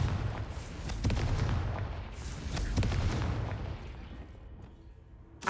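Confringo blasting spell in Hogwarts Legacy, heard as a series of deep booming blasts with sharp cracks, loud and close, rumbling on and then fading out.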